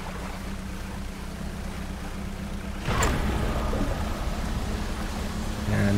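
A boat engine chugs steadily in the fishing game Dredge, a low rumble under a wash of water noise that swells suddenly midway with a splashing surge.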